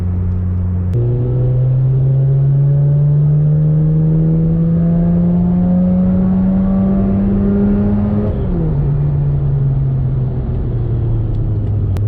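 A Mazda RX-8 rotary engine revs steadily upward while driving, its loud, close drone climbing in pitch for several seconds before dropping back as the throttle eases, with a constant road rumble underneath.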